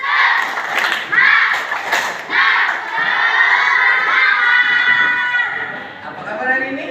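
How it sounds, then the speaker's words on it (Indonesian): A classroom of children shouts and cheers for those present, a loud burst of young voices yelling together with a few thuds, the noise rising and falling before tapering off. "Tepuk tangan buat yang hadir."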